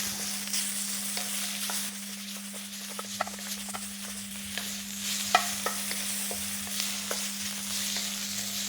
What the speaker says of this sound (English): I'm just moving this around so that pork is sealing up.